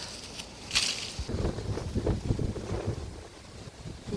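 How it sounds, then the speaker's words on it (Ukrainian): Strong, warm wind buffets and rumbles against the microphone in uneven gusts outdoors, with a brief hiss early on and no talking. "Вітер, звісно, дуже сильний вітер, але теплый"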